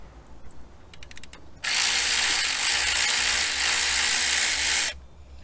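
A ratchet with a 13 mm deep-wall socket works on a bracket during Chevy Impala fuel injector and plenum removal, giving a loud, steady, rapid clicking run of about three seconds after a few faint ticks.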